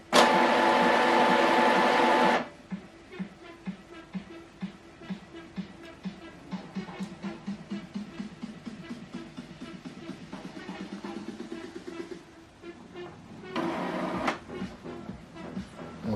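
Epson WorkForce WF-2930 printer initializing after an ink cartridge install, giving a loud steady whir at the start, then a long run of rhythmic mechanical clicks and motor buzzes, with another short whirring burst near the end.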